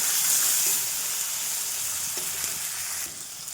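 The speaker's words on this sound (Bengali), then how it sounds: "পেঁয়াজটা একটু লাল লাল করে ভেজে নেব।" Onions salted in a pan sizzle loudly and steadily up close, easing slightly after the first second, with a few faint stirring knocks beneath the hiss.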